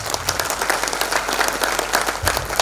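Audience applause at a Narayan Seva Sansthan event, a dense steady patter of many hands clapping throughout, close and fairly loud.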